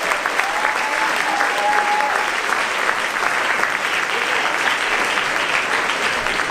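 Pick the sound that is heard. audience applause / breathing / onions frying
audience applause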